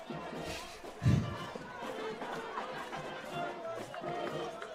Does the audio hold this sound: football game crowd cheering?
yes